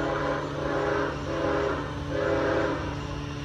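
Norfolk Southern freight train 203, Rutherford, Pennsylvania to Atlanta, Georgia, passing at Cornelia, Georgia, with a steady rumble of rolling cars and a sustained tonal whine rising and falling, close and continuous.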